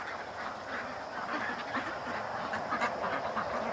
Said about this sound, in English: I heard the ducks freaking out